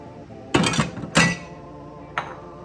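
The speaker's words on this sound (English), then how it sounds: "So I'm gonna go ahead and put my Brussels sprouts in, my chopped onions," Chopped vegetables (Brussels sprouts and onions) are dropped into an air fryer basket, making three sharp clattering knocks, with two close together early and a lighter one near the end.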